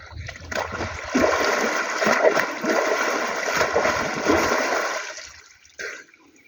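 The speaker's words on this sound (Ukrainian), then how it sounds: "три рази треба окунутися в воду, щоб вода тебе прийняла" A person plunges into cold water at an outdoor recreation base, setting off a sustained rush of splashing and churning water. The sound is loud and close and lasts several seconds, then fades, with one brief splash after it.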